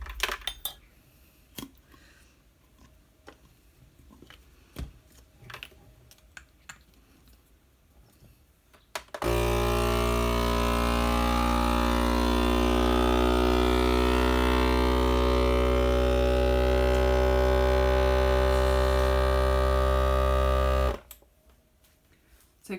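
A vacuum sealer pump drawing air from a glass mason jar of dry beans: after scattered small clicks and handling taps, a loud steady motor whine runs about twelve seconds, its pitch shifting partway, then cuts off abruptly.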